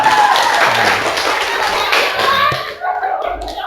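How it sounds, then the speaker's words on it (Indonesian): Classroom students clap together for a winning group during a lesson, a dense steady burst of many hands fading out near the end, with faint voices underneath. "Ya, tepuk tangan."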